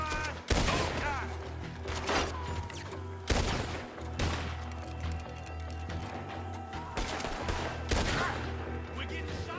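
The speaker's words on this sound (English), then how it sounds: "We're getting shot at, all right." Repeated bursts of gunfire in the Red Dead Redemption 2 video game crack out loud and close amid a steady mechanical background, several sharp volleys spaced a few seconds apart with occasional hoof-like clatter.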